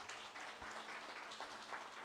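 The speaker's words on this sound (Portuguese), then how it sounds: "Vamos aplaudir aqui os irmãos, gente, por favor." A church congregation applauds, a faint, distant patter of many hands clapping steadily throughout.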